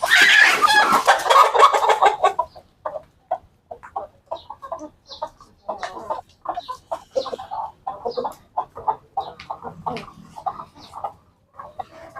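Several chickens cluck in short, irregular bursts nearby, after a louder, busier stretch of squawking at the start.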